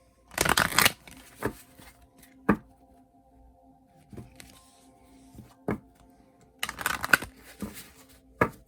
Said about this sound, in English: You hear me shuffling, but you don't see me shuffling.